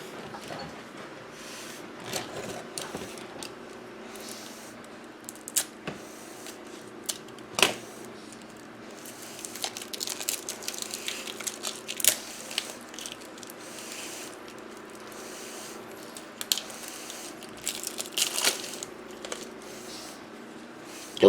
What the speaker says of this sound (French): Je vais juste séparer les cartes et je reviens